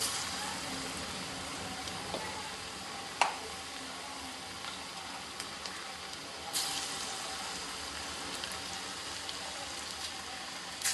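Chana dal pakoras sizzle in hot oil, a faint continuous crackling hiss with occasional sharper pops and spoon clinks.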